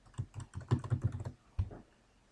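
Quick bursts of keystrokes on a computer keyboard: a rapid run of close clicks, a brief pause, then a final couple of taps, alone and near.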